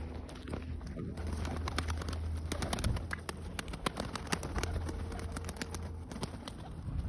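A pet pigeon coos nearby in repeated low, soft calls, mixed with small clicks and wing or foot rustles, with no voices.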